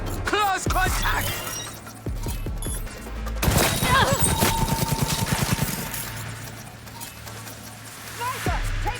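Gunfire and clattering combat noise in Cyberpunk 2077, with a loud run of rapid repeated shots in the middle section. Voices shout over the sounds before and after the burst.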